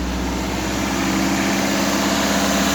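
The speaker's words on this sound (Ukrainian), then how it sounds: "Заводжу автомобіль." A 1.8 petrol Toyota Carina E engine starts and idles close by with a steady, low rumbling hum and faint vibration.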